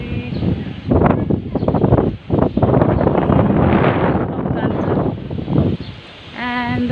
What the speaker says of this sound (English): And today evening it's quite windy,